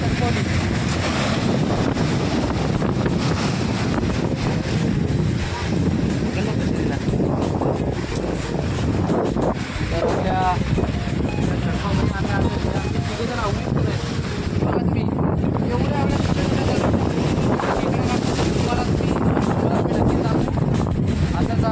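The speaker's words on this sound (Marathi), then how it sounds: "लाटा बघा, तुम्ही लाटा बघू शकता" Arabian Sea surf at high tide on the Konkan coast, continuous rushing waves mixed with strong wind buffeting the microphone, loud and unbroken throughout.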